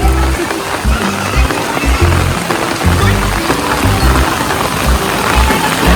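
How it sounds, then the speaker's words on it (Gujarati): Heavy downpour in Rajkot drumming onto a street, a dense, loud, continuous patter heard from close by under an umbrella, with faint voices mixed into the wash of rain. "વરસાદ મસ્ત મજાનો ચાલુ છે."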